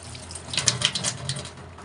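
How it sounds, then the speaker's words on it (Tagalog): Running water from an open tap while coins are being cleaned, a soft steady hiss of flow with slight splashing, close and alone. "buksan natin yung tubig lang. So, running water."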